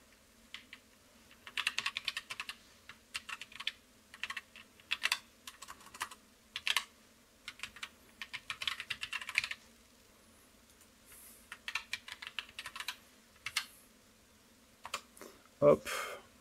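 Keys clatter on a computer keyboard while logging in to an account on a PC, in several quick bursts of typing with short pauses, fairly close, and a voice speaks briefly near the end.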